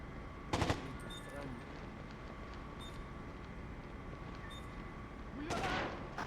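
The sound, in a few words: gunfire while under fire in a video game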